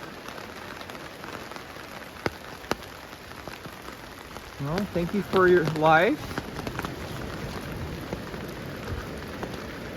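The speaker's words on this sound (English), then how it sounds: "The best thing about a good rainy day at the beach here, I got it all to myself." Rain falls steadily at Hearst State Beach, California, a soft continuous hiss of drops near eucalyptus trees, with someone briefly talking midway through.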